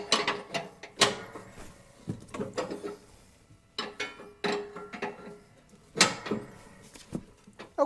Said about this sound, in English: So I'm going to go ahead and loosen this nut here and try to drop this side of the deck.